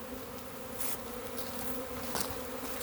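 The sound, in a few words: honeybee swarm buzzing in a bucket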